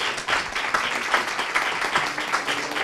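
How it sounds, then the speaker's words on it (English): An audience claps as a summit session breaks for coffee, giving a steady, dense round of applause that stays fairly close and even, with only faint voices underneath. "I would give you a round of applause"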